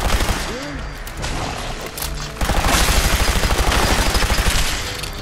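An unsilenced gun in the video game Fallout 4 fires in a fast, loud rhythmic burst of repeated shots, preceded by scattered game sounds and a brief swooping tone.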